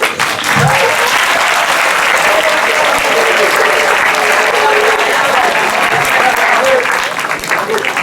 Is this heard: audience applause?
yes